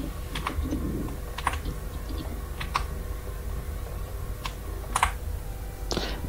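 Typing on a computer keyboard: scattered, fairly quiet key clicks come in small irregular bursts over a low background hum, with no talking.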